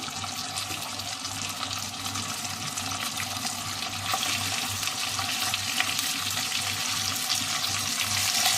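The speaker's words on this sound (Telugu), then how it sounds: "దీన్ని ఫ్రై చేసుకోవాలి. చూడండి, దీన్ని ఇలాగే దీంట్లో ఫ్రై చేసుకున్నాము." Chicken pieces that were boiled first now fry in hot oil for Arabian chicken kabsa, giving a steady, dense sizzle that grows slightly louder midway and runs without a break.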